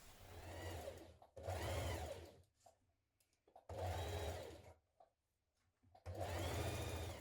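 A sewing machine stitches a sleeve seam with a 1.5 cm seam allowance on a Burda 6602 top, running in four quiet bursts of rapid stitching separated by short pauses.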